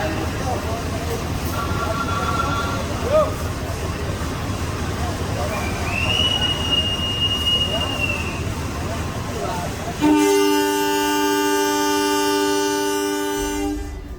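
The Gajahwong train pulls out of Lempuyangan station in Yogyakarta, rumbling on the rails, then a long loud multi-tone horn blast starts near the end and holds for several seconds.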